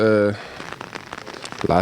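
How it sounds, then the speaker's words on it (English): Rain falls steadily outdoors at a cerebral palsy football tournament in Vejen, Denmark, a close pattering and crackling patter under brief tonal sounds at the start and end. "It is currently raining, and it looks like it will be raining all day."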